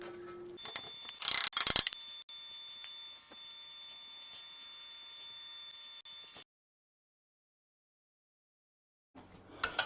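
A ratchet wrench torques bolts on a Dana 44 axle crossover and high steer kit with knuckles, giving a loud burst of rapid clicks near the start, then a quiet mechanical hum, silence, and a faint return at the end.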